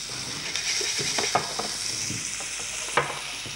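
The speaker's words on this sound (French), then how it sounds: "on va déglacer avec un peu de kérès et un peu de porto" Fresh duck foie gras in a hot pan being deglazed with sherry and port, a continuous sizzle broken by a few scraping stirs and short clicks, close and fairly loud with no talking.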